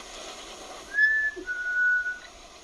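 A single person whistles two sustained notes, the second longer, in a quiet room.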